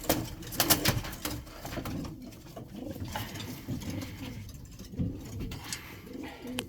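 A racing pigeon kept for breeding, hatched in 2014, coos in low, throaty repeated phrases close by, with soft rustling and other birds in the loft around it.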